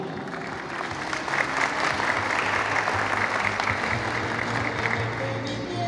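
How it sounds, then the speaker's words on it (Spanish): A seated audience at a retired teachers' association gathering in Patzún claps steadily to welcome a speaker, a dense, even wash of applause held at one level for several seconds. "La recibimos con aplausos también."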